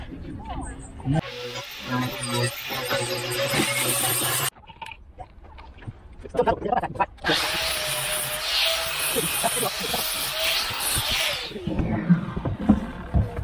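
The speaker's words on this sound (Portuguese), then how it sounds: "Tem que passar a lixadeira" An electric sander whirs on wood in two long, harsh hissing bursts, levelling a boat's aft locker entrance, with a pause between them and scraping and voices around it.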